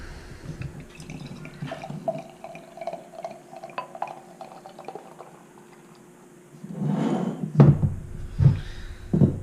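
Dark barrel-aged imperial stout pours from a bottle into a glass, a quiet trickle followed by louder glugging splashes near the end, with no talking.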